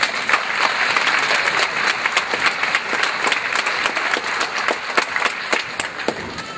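Commencement audience at Pamlico Community College applauding board members, a dense, steady round of clapping from a large crowd, fairly close and loud, with distinct sharp claps standing out throughout.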